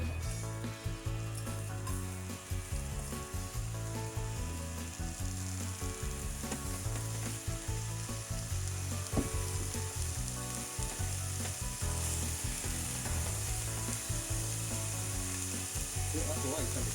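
Chopped daikon radish leaves and peel stir-fry in a pan, sizzling steadily with frequent clacks and scrapes of stirring throughout, close and continuous.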